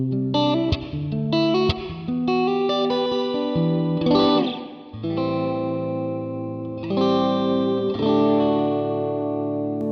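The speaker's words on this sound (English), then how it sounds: "let's check out the enhanced mode. Adds a modulation to the reverb." Electric guitar chords played through a Black Country Customs Secret Path reverb pedal in enhanced mode, modulation shimmering on the reverb, with several strummed chords that ring out and swell into long washy tails.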